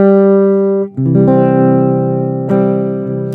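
Clean guitar chords of a chord-melody arrangement of "Amazing Grace" ring out one after another, sustained and harmonically rich, with a change just before one second and another strike around two and a half seconds.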